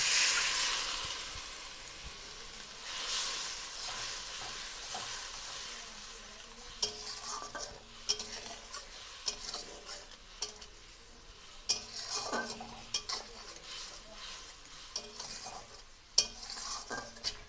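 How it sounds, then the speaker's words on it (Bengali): Spice paste of cumin and coriander with a little water fries in oil and is stirred for a pointed gourd dish, a soft sizzle under repeated close scraping and clinking of a spoon against the pan. "মশলাটা ভালো করে কষিয়ে নিতে হবে মশলা থেকে তেল ছেড়ে গেলেই পটলগুলো দিয়ে দিতে হবে"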